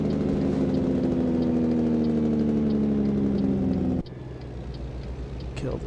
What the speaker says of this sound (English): Kick the Jake brake on